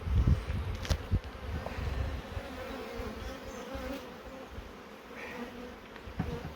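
Honey bees buzzing around an open beehive during a brood inspection, a steady close insect drone with a few louder passes near the start and end, with no talk.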